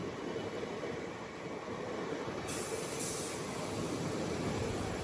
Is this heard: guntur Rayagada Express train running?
yes